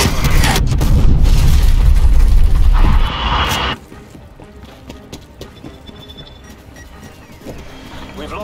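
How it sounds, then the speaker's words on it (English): Artillery strike explosions in a Call of Duty Cold War multiplayer match, a loud sustained rumbling blast over the first three seconds that cuts off sharply, followed by quieter scattered impacts and game noise. "Hostile artillery targeting active."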